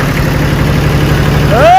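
A low, chugging tractor engine idles steadily nearby, its rhythmic diesel throb continuous, with a brief voice rising over it at the end.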